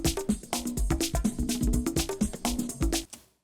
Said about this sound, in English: We've got this percussion loop